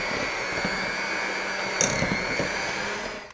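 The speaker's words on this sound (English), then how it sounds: "I'm just going to blend these two together until it's creamy" An electric mixer creams butter and sugar together, a steady whirring motor drone close by with slight rattles and bumps, continuing without pause before winding down at the end.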